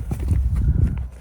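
Hooves of Honey, a rescue horse, clopping on the ground in quick, irregular thuds, close and fairly loud over a brief stretch.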